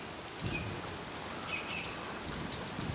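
Steady rain pattering on a surface, a dense continuous hiss with scattered closer drops, no voices.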